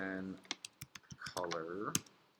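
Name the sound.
typing on a computer keyboard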